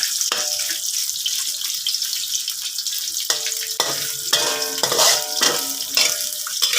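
Fish strips stir-fried in a pan, with steady hissing sizzle and intermittent clatter and scraping of a utensil against the pan, close and continuous, without talk.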